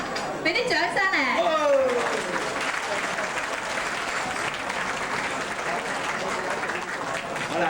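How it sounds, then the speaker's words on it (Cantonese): Loud, sustained audience applause fills an award presentation at a 1993 charity show. A brief voice is heard at the start, then dense clapping continues steadily to the end. "俾啲掌聲嚟！"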